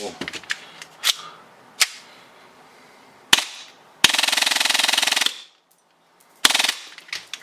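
A 3D-printed prop 22LR gun firing BBs gives sharp, loud snapping shots, some single and spaced, plus one rapid buzzing burst of about a second, with brief silences between.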